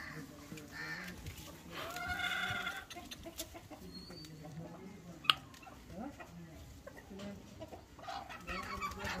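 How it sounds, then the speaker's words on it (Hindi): Chickens cluck softly in the background while small birds chirp and twitter around them, a quiet outdoor farmyard scene in a Pakistani village with a sharp knock midway. "ये मुर्गियाँ आपको नज़र आ रही हैं। बड़ा प्यारा माहौल, सुकून वाला माहौल है और चिड़ियों की आवाज़ें"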